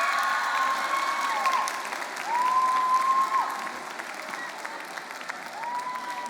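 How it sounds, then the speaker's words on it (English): An audience at a student debate showcase gives a speaker sustained applause, a dense wash of clapping hands with a rising, whistle-like tone running through it. "Give a big round of applause to Maximilien Picard."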